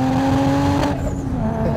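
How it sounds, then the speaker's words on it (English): A tuned 700 HP Toyota Supra roars under boost, its loud, steady exhaust drone holding a strong tone before the note shifts partway through. "You can hear the exhaust change note the second that boost comes on."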